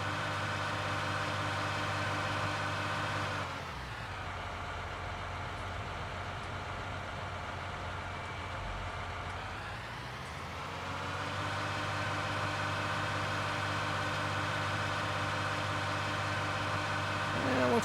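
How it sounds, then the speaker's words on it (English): John Deere 4250 tractor in Farming Simulator pulling a chisel plow: a steady, loud engine drone that dips into a lower, labouring rumble midway, then climbs back to a higher steady pitch, heard alone. "Looks like even this tractor could probably use a little more horsepower on this plow."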